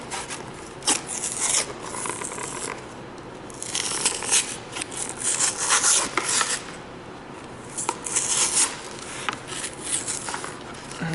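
A milk carton mold is peeled and torn off a block of plaster, giving close, uneven rubbing, scraping and papery rasping bursts with short pauses between them.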